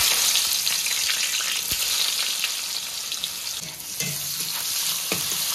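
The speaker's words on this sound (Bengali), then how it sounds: "এবারে দিয়ে দিচ্ছি স্লাইস করে কেটে রাখা পেঁয়াজ" Sliced onions frying in hot oil seasoned with dried red chilli, bay leaf and cinnamon: a steady close sizzle with scattered pops and the scrape of stirring, no voices.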